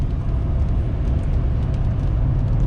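A muffler-deleted Ford Powerstroke diesel truck pulls hard uphill while towing, its loud, steady low exhaust drone and rumble filling the cab without a break.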